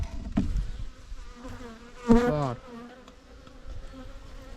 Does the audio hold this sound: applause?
no